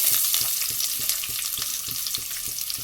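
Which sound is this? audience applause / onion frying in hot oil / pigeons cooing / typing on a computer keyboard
onion frying in hot oil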